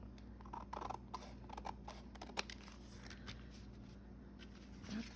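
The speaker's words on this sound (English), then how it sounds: "I'll just cut along this edge." Scissors cutting along the edge of a sheet of junk mail paper, a quiet series of crisp snips and paper rustles spaced irregularly, close but faint, with no talking.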